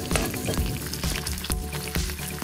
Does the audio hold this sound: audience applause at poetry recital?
no